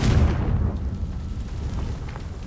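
Confringo spell explosion in Hogwarts Legacy: a deep, heavy boom that rumbles and slowly fades over about two seconds, loud and close, with no voices.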